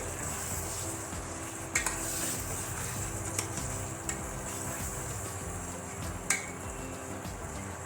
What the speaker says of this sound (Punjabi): ਹੁਣ ਇਹਦੇ ਵਿੱਚ ਆਪਾਂ ਮਟਰ ਪਾ ਦਵਾਂਗੇ ਮਟਰ ਪਾ ਕੇ ਵੀ 2 ਮਿੰਟ ਵਾਸਤੇ ਇਹਨਾਂ ਨੂੰ ਇਸ ਤਰ੍ਹਾਂ ਹੀ ਤੜਕੇ ਆਲੂਆਂ ਦੇ ਨਾਲ ਆਪਾਂ ਮਿਲਾਵਾਂਗੇ